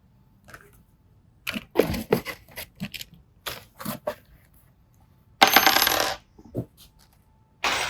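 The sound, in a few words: screws dropping from DTF printer unboxing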